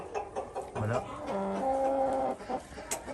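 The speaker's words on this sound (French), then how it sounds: "Ici on a un coq noir caillouté blanc, très légèrement caillouté." A black rooster mottled with white, a Brahma, crows once up close, a drawn-out, rising and falling call, with soft clucking around it and someone speaking quietly underneath.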